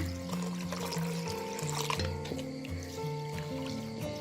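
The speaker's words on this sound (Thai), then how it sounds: "ใส่น้ำลงไปเลยนะ ปริมาณน้ำนะ ให้ใส่เขาท่วมนะ" Water pours into a bowl of 500 grams of mung beans to cover them for overnight soaking, a continuous close splashing and gurgling fill lasting the few seconds.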